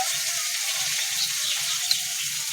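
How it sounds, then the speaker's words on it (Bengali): Long-sliced potatoes frying in hot oil with a dried red chili and kalonji seeds, giving a steady, close bright sizzle with faint low bubbling underneath and no voices. "লম্বা লম্বা করে কেটে রাখা আলুটা দিয়ে দিচ্ছি।"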